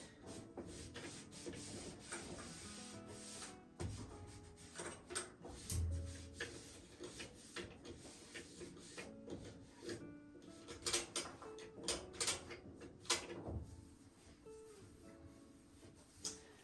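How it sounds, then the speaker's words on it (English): Steady rubbing and wiping strokes of a cloth across the top of a Maytag dryer, close up, with soft scuffs and occasional knocks. "I can wipe down the top of my dryer, get that dusted."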